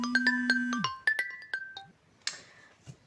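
A mobile phone rings nearby with a bright, melodic electronic tune of quick, evenly spaced notes over a steady tone, then cuts off and leaves a few faint knocks.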